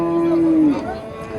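A single cow gives one long low moo at the Juma cattle market in Pastdargom, Samarkand, near and loud, fading into a murmur of the crowd.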